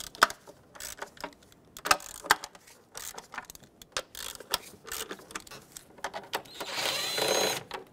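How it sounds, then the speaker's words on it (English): Hand tools and ratchets work on the upper intake manifold bolts of a 3.6L Dodge Grand Caravan, making quick clicks, clinks and short mechanical bursts at close range. A brief louder whir comes near the end. "I'm going to work my way from the outer bolts to the inner bolts, just breaking them free."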